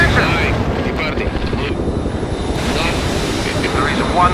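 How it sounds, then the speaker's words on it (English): Loud, continuous rotor and engine drone of a helicopter flying in the World in Conflict game during a multiplayer fjord battle, a dense low rumble throughout with faint higher tones on top. "There is one less helicopter moving. In the sky."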